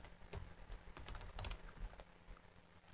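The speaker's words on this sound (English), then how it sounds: "I could type in cd space tilde Linux Leech" Quiet, close keystrokes on a computer keyboard as shell commands are typed, a quick irregular clatter of clicks with a louder final keypress, no voices.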